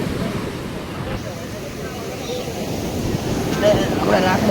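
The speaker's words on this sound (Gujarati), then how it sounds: "પાણી આવે છે. દરિયાનું આપણે જોઈ લીધું છે." Sea waves washing up at the shore, a broad steady rush with heavy wind buffeting the microphone, swelling slightly toward the end, with faint voices in the background.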